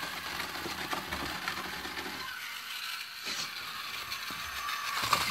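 A Tamiya Mini 4WD Lunch Box toy car runs on a short track with a buzzing motor, rattling gears and clicking plastic. The sound is moderately quiet, fluctuates as the car laps and ends with a sharp knock.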